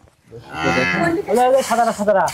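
A dairy cow, likely a Sahiwal or Jersey type, lets out one loud, close moo lasting about two seconds, rising and then wavering at the end, with no talk over it.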